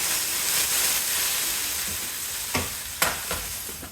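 Vermont maple sausage links pan-seared in a skillet on the stove give off a steady, close sizzling hiss, broken by a couple of sharp utensil taps near the end.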